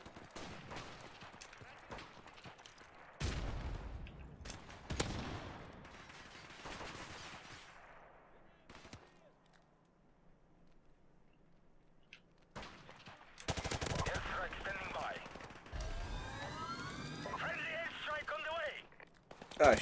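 Rapid rifle gunfire in Call of Duty: Modern Warfare Remastered, heard as several bursts of shots with a quiet stretch midway, followed by more loud firing and game effects near the end.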